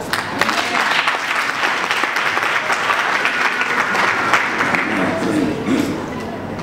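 A church congregation at a Sunday sermon applauds and cheers for the Lord, with dense, sustained clapping filling the room continuously and fairly loud, a voice or two faintly mixed in.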